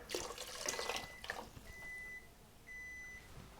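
Water poured into a pot of potato and corned beef chowder, a soft liquid splash and trickle for about a second and a half, followed by two steady high electronic beeps from a nearby appliance.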